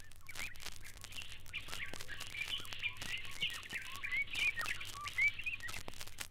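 East African birds sing in a lively outdoor chorus, overlapping chirps, trills and whistles at moderate distance, some calls repeating in quick bursts over a soft low background hum.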